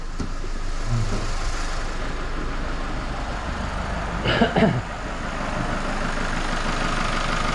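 A Mazda 6 car engine idles with a steady low rumble, close and continuous, with a brief clunk midway and no talking.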